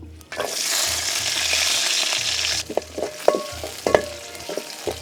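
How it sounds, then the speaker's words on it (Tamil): Meat fries with green chili, onion, dried red chili and curry leaves for Tamil Nadu-style chicken kulambu. A loud bright sizzle is followed by several sharp stirring clinks and scrapes near the pan. "கண்ணு கறி வறுக்கிறதுக்கு பச்சை மிளகா, வெங்காயம், கொஞ்சம் வரமிளகா, கறிவேப்பிலை போட்டு கறி வறுக்கலாம்."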